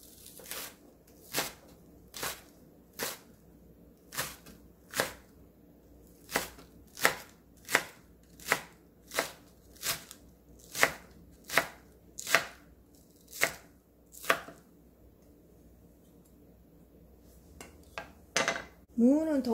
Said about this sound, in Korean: 쪽파를 총총 썰어주세요.